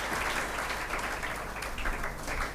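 Strong applause from a seminar audience at a motivational youth event in Begusarai, dense and steady throughout at close range, with no talk over it.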